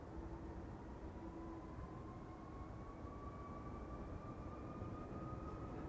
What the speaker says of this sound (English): Taking off to Paramaribo, already spooling up.